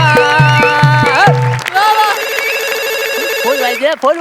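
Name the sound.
telephone ringing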